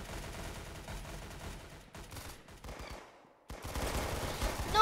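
Rapid gunfire from a gun in Roblox Arsenal rattles in quick bursts, broken by a short silence before more shots resume, fairly faint and without voices.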